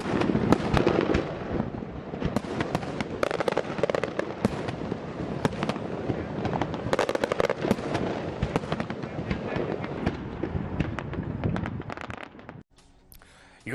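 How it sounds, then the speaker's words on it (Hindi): Fireworks bursting over Terra Natura amusement park in Spain, a dense, continuous barrage of loud crackling pops and booms for about twelve seconds before cutting off abruptly. "स्पेन के तेराजाना एम्यूजमेंट पार्क में इस मौके पर जमकर आतिशबाजी की गई"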